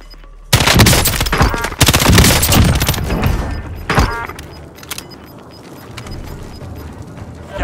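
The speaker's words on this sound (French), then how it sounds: "Je me fais tirer dessus." Gunfire in Call of Duty Warzone fills the start: loud, rapid bursts of automatic fire crackle for about three seconds, a single heavy shot follows, and then the scene settles into a quieter, rumbling background.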